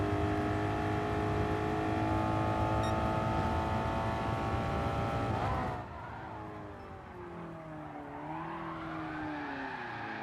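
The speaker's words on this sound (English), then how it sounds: "Gotta really love the sound of the engine though" Race car engine in a racing video game, a loud steady high-revving drone with layered harmonics that suddenly drops and shifts pitch partway through, then continues lower and rising, with no talk.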